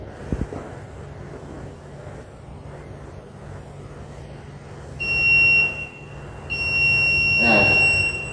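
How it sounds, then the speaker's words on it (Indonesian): A security system buzzer in an electrical panel room sounds a steady high electronic tone in two stretches, the second longer and louder, over low background hum. "di sini buzzer menyala pada saat keadaan pose not standing"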